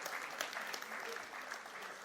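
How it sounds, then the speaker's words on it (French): Audience applause at a French spoken-word or preaching talk, a steady wash of clapping from a crowd lasting about two seconds, fairly faint and even with no clear gaps. "Vous pouvez applaudir"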